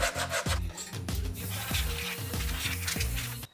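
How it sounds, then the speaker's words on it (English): A new carbon fiber pancake welding hood being sanded by hand in close, steady rhythmic strokes, a scraping rasp repeating about twice a second. "Okay, so I'm gonna sand right there and right there."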